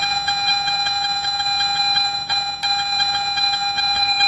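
Garrett metal detector held over a buried target, giving a steady high-pitched electronic tone that pulses rapidly and evenly as the coil wiggles back and forth, close and without speech.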